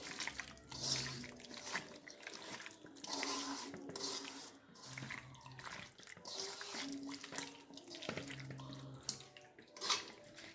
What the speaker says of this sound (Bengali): এখন দিয়ে দিব পানি